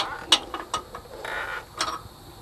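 A ratchet wrench clicks in short bursts while loosening the 3/4-inch lower shock nut and bolt on a Workhorse P32 chassis, several scattered metallic ratcheting strokes at close range.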